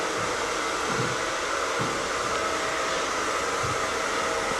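A hair dryer blows close and loud as a short graduation haircut with a disconnection is blow-dried, giving a steady, unbroken rushing roar with faint shifts as it moves.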